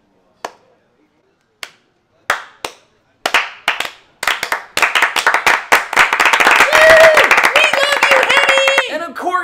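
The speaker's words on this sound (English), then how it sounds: "give this car a round of applause" Scattered claps from a car show audience build from a few separate slow claps into dense, loud applause over about nine seconds, in honour of a 1970 Plymouth Road Runner 426 Hemi muscle car.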